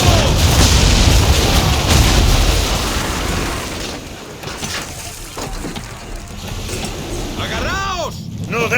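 Ship cannon broadside in Assassin's Creed 3, a loud booming roar of cannon fire with rumbling blasts and splashing, set in a naval battle at sea, with shouted voices nearby.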